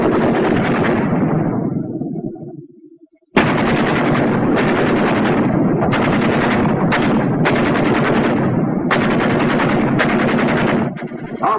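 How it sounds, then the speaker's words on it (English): Two World War II machine guns firing in sustained, overlapping bursts, loud and close, with a brief lull early on before continuous rattling fire resumes and the bursts trade back and forth. "Ever hear a battle between 2 machine guns?"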